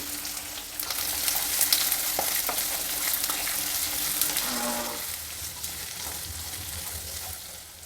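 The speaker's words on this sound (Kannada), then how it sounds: "ಈರುಳ್ಳಿ ಎಲ್ಲ ಹಾಕ್ತಾಯಿದ್ದೀನಿ ಈಗ ಸ್ವಲ್ಪ ಬ್ರೌನ್ ಕಲರಿಗೆ ತಿರುಗ್ಕೊಂಡಿದೆ" Medium onions, eight to ten green chilies and lentils fry in hot oil with stirring, producing a steady, loud sizzle and occasional scraping throughout, with no talk.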